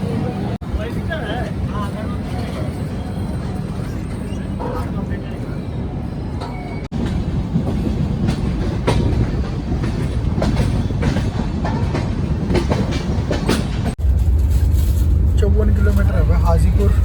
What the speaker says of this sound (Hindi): 5 मिनट के होल्ड के बाद डिपार्चर हो गया 3 नंबर प्लेटफॉर्म से सरयू यमुना एक्सप्रेस का छपरा जंक्शन के।